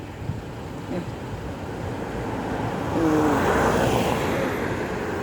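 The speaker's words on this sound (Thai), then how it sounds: "ดูลมพัด ลมพัดเขาโอ้" Wind blows strongly through the branches of a heavily flowering plant outdoors, a steady broadband rush that builds and grows louder midway, with no clear talk over it.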